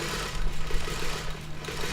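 A home sewing machine runs continuously, stitching a quilt triangle for a beginner quilting lesson, producing a steady close mechanical whir with a rapid rhythmic needle chatter and no talking.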